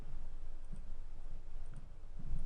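Soft, quiet clicks of number keys being pressed on a graphing calculator keypad, tapping at an irregular pace while entering matrix values, with no talking.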